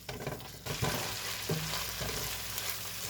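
Beans with chorizo cooking in a pot over medium heat, a close, continuous sizzling bubble with a few stirring scrapes and knocks, and no voices.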